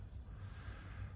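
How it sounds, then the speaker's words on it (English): Crickets sing at sunset on a front porch, a steady high-pitched chirring that continues unbroken and fairly faint, with a low hum beneath and no talking. "listening to the crickets starting to sing"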